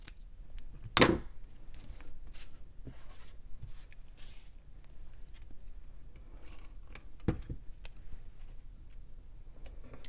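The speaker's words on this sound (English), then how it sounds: "And snip that one." Scissors snip paper while a harvest-themed handmade card is made, giving a few sharp, close cuts with quiet tapping and handling sounds between them.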